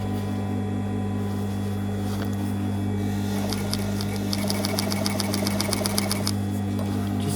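A sewing machine stitches at a steady clip, its hum and rapid needle ticking carrying on alone throughout and picking up into quicker bursts near the end.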